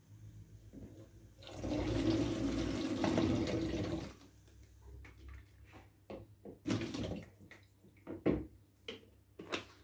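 Green spirulina culture water poured into a container during water flea culturing: a steady, splashing pour lasting about three seconds, then softer clinks, trickles and drips as the container settles.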